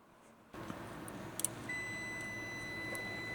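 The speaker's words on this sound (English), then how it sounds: "we're just going to do some continuity testing between sensor ground, sensor 5 volt" A multimeter continuity tester gives a steady high electronic tone that starts partway through and holds, used while checking sensor ground and 5-volt sensor wiring on a 1JZ-swapped BMW E36, over faint workshop background noise.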